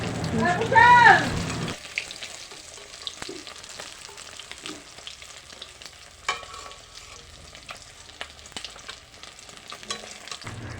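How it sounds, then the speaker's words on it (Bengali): Fish frying crisply in oil, a steady crackling sizzle with scattered spatter pops and a few utensil knocks; a voice is heard briefly at the start. "মাছগুলো কী সুন্দর ভাজা হয়ে গেছে কড়কড়া করে ভেজে ফেলেছি"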